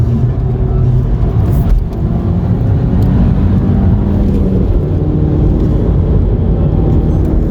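A manual Volkswagen GTI MK5 on the road, its engine and tyres giving a steady, loud low rumble that holds at an even level throughout, with no talking over it.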